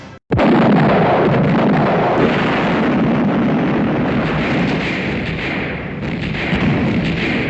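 Heavy gunfire in a war film battle scene, a dense, continuous roaring barrage of booming shots that fills the whole stretch without letup.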